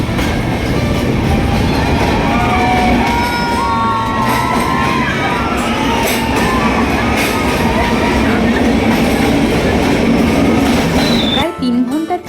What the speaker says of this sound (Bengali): আমাদের ট্রেন এগিয়ে চলল পাহাড়ের বুক চিরে মেঘেদের চাদর ভেদ করে